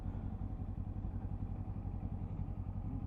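A Kawasaki Ninja 7 Hybrid motorcycle engine braking toward a stop, a steady, close, low rumble that holds at an even level throughout with no voices.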